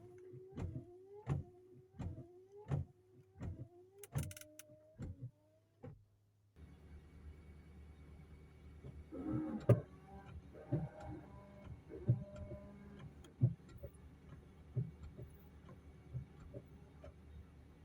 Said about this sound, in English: All the wiper functions tested A-OK with the new motor.